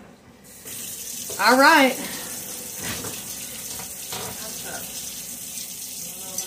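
Cold tap water runs steadily into a sink for several seconds at close range, a constant wash that continues alone after a brief spoken remark near the start.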